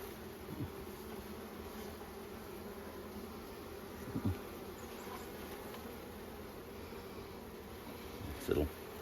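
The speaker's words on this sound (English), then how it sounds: "These little calm nurse bees, they're not really interested in stinging me." Honey bees, calm nurse bees on brood frames, hum softly and continuously around a nucleus hive, with a few faint thuds and rustles of handling mixed in.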